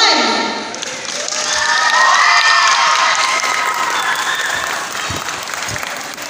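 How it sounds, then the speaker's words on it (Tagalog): An audience breaks into loud applause and cheering for the first contestant at a live contest, swelling to a peak mid-clip before settling into steady clapping, with a few thuds and scattered shouts mixed in. "Palakpak."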